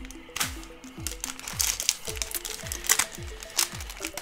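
Crinkly plastic wrapper of a Pokemon mystery card pack being torn and crumpled open, a steady run of crackling rustles with sharp crunches, close and alone.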